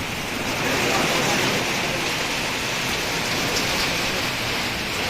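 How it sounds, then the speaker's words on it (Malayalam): Heavy rain pours steadily at Kovalam beach, a dense even hiss of drops hitting the ground close around, with no break across the few seconds. "മഴ പെയ്തു, മഴ പെയ്തു, കോവളത്ത് മഴ പെയ്തു"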